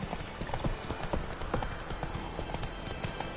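Horse hooves trot steadily in The Witcher 3, a quick even clip-clop rhythm heard up close under low ambient noise, with no talking.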